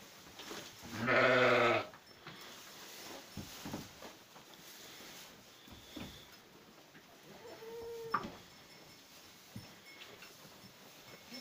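Sheep and goats at hay feeding in a Maramureș fold: one loud, close, wavering bleat, then scattered faint bleats, shuffling and rustling of hay, with another short bleat later.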